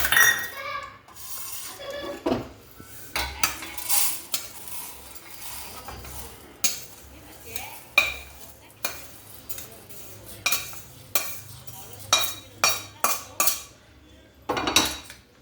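Roasted rice is scooped out of a pan with a metal spoon, giving a series of scrapes and clinks that grow denser and sharper toward the end, a short voice briefly heard near the start.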